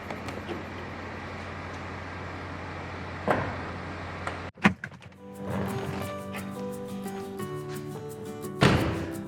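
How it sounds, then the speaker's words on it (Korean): The power trunk of a BMW 520d G-body sedan runs with a humming electric motor whine between solid thuds of the lid and latch, against a quiet background. "트렁크는 전동 트렁크가 들어간 차량이고요"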